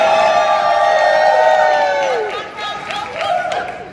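An audience keeps up loud, continuous cheering and whooping with some clapping mixed in, the shouts rising and falling across the whole stretch.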